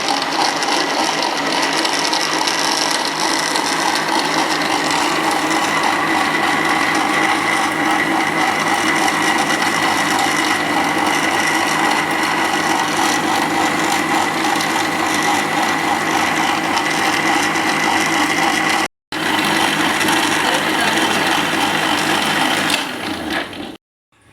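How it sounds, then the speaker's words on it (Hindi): A kitchen grinder whirs loudly and steadily as it blends falsa berries with water for juice, running with one short break near the end before it stops. "ऊपर से हम इसको डांप के ग्राइंडर को चला दें।"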